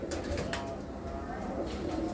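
Pigeons coo softly and steadily in low, murmuring tones, with faint rustling and a few brief higher chirps; no one speaks.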